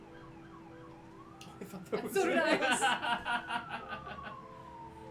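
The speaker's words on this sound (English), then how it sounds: "Can you guys hear those police sirens?" A police siren wails in the distance with a rising and falling tone while people talk and laugh close by.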